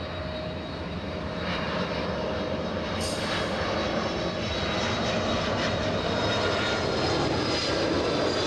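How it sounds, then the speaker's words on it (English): A Boeing 767 jet airliner arriving from JFK lands at LAX, its engine roar loud and sustained, swelling slightly as it passes overhead with a steady broadband rush. "767 coming in. This one flying in from"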